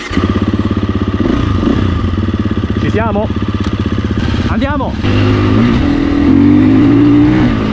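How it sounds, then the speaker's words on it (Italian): A new enduro motorcycle engine runs loud and close throughout, revving and climbing in pitch as it accelerates, while someone speaks excitedly over it. "Ragazzi, la moto di motore ne ha"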